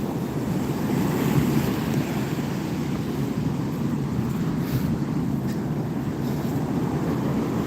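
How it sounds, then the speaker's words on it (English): Steady roar of ocean waves and strong wind at sea, a dense continuous wash with wind buffeting the microphone throughout, loud and close with no breaks or voices. "the wind is going to increase, the ocean noise is going to increase"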